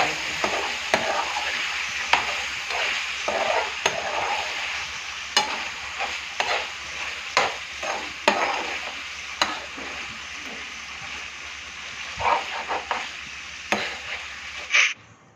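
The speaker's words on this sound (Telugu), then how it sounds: "చికెన్ లివర్ అయితే ఆయిల్లో బాగా ఫ్రై అయింది" Chicken liver frying in hot oil, a steady close sizzle with repeated stirring scrapes and knocks at an uneven rhythm, no voices over it.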